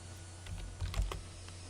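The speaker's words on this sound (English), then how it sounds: "Quit hitting the keys, please." A computer keyboard is tapped in a few soft, quick bursts of clicks near the middle, faint over a low steady hum, with no talking.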